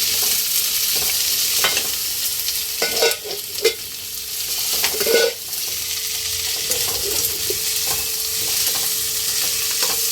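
Mustard seeds, cumin, green chili and mixed vegetables stir-fry in hot oil with a steady close sizzle, broken by a few louder scraping stirs near the middle; no one speaks.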